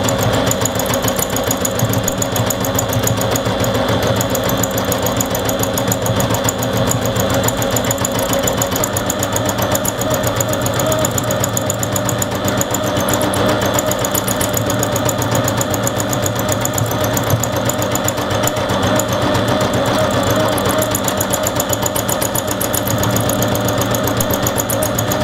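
Sewing machine free-motion stitching across a needle-felted landscape picture, a steady close whirring and rattling drone that runs without a break the whole time, with no voices over it.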